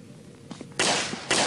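Gunfire in the horror video game Jeff the Killer: two loud, sharp bursts in quick succession after some faint rustling, each a harsh broadband crack with no talk over them.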